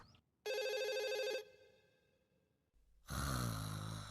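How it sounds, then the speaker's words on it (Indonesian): Telephone ringing in a Doraemon cartoon: one clear electronic ring burst, a pause, then a second louder ring, all faint and isolated. "Ada telepon dari Suneo."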